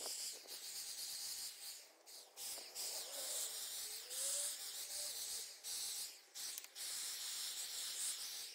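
Steady, broad hiss of a Wagner W100 electric spray gun running continuously, with brief gaps where it cuts off, close by and fairly loud.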